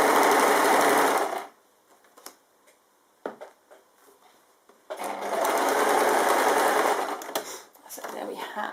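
A sewing machine stitches off the end of quilt fabric in two fast, loud mechanical bursts, a brief pause with small clicks and handling noises in between, then a longer run with a short stutter near the end.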